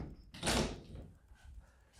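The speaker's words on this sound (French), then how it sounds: "Là, je lui ouvre la porte et il bouge pas." Door opened for a cat, a single soft clunk and scrape of the latch and panel close by, followed by faint quiet room sound.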